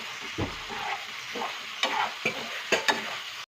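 A spoon stirs a Kerala-style prawn fry coated in masala in a pan, with a few scraping strokes and light sizzling under a soft background hiss, closely miked and without speech.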